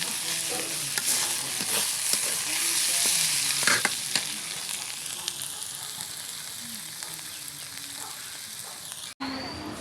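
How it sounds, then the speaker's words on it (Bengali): Jali, a fried snack, sizzles steadily in a frying pan with bright continuous crackle, a few louder pops and scrapes, and a brief cut near the end. "জালি ভেজে দিচ্ছি।"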